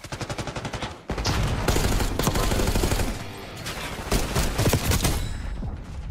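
Pistol gunfire in the video game Black Ops 6, rapid loud shots in quick succession with a dense, chaotic mix of other gunfire around them, close and continuous, with no talk.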